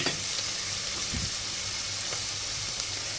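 Onion softening in hot oil in a pot for a spinach and meat stew, giving a steady, close, even frying hiss with a few faint scrapes and no talk.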